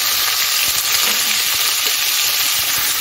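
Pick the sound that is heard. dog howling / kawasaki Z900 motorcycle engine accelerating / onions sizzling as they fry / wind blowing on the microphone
onions sizzling as they fry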